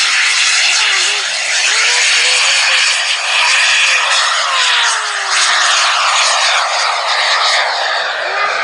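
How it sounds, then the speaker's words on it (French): A CM170 Fouga Magister jet trainer takes off at an air show, a loud, steady broadband jet roar sustained throughout with a faint rising whine, heard from nearby in the open air. "au décollage maintenant, le CM170 Fouga Magister"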